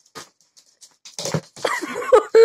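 A dog whimpers and yips indoors during goalkeeper training, with short scattered sounds giving way to louder vocal bursts toward the end.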